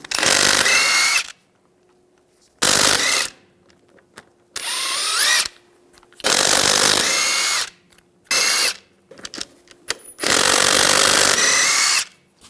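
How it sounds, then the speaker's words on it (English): An impact power tool with a 22mm socket removes lug nuts from a Ram 1500 rear wheel, heard as loud repeated whirring bursts separated by short silences. "Using a 22mm socket, take the lug nuts off."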